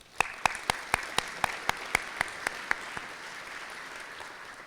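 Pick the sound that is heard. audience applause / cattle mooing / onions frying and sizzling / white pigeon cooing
audience applause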